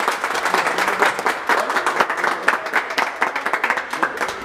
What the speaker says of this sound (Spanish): Otro aplauso para ella, ¿cierto?